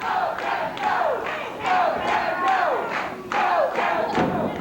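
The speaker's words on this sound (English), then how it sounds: "The crowd begins to chant and yell for Kevin Von Erich" A wrestling crowd at an All-Star Wrestling match chants and yells for Kevin Von Erich in loud, rhythmic bursts, with repeated rising shouts and a few thuds underneath.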